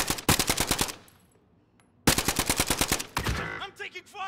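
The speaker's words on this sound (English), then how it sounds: "I'm taking fire!" Gunfire in Call of Duty Modern Warfare: two loud, close bursts of rapid automatic fire separated by a short pause, then a rougher trailing burst.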